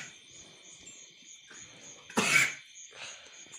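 A cow gives one loud, harsh cough in a rural setting where several cows have a cough, sharp and close against quiet background with a steady insect chirp, followed by a fainter second throaty sound.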